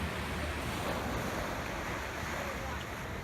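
Continuous broadband wash of surf and wind, a steady roar of small ocean waves off Oahu's shore with no distinct breaks, heard from nearby.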